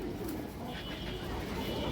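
A large ghiya chulli male pigeon coos softly and steadily close by, the low throaty call running continuously over a faint background hum.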